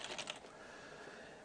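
Quiet clicks of a computer keyboard being typed on, a short burst of keystrokes heard faintly at close range before fading into low background hiss.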